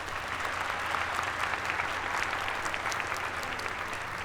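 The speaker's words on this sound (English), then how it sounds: "give him another round of applause." Audience applause at a dual enrollment recognition ceremony, steady and dense throughout with many hands clapping together, fairly close and full, with no voices over it.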